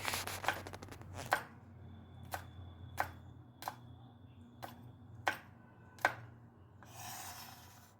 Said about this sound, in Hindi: मिर्च को बीच में से काट के फिर उसके बाद इसको बारीक करके काटना है।